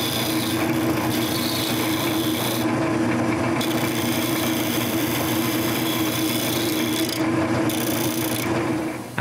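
Sandpaper rubs continuously against a spinning wooden bowl cover on a lathe, with the steady motor hum underneath. The scratchy texture shifts in brief intervals as the pressure changes.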